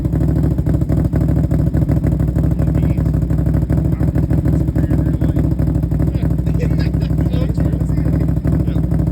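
A Can-Am 850 XMR fitted with Cut n Grooved Assassinators exhaust idles loud and close, a deep, rapid, pulsing rumble that runs continuously while people talk over it.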